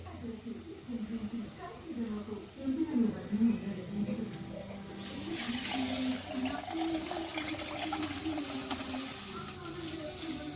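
Second-extract coconut milk pours and splashes into a pan of fish curry, a gushing wash of sound that builds midway, with a voice murmuring underneath.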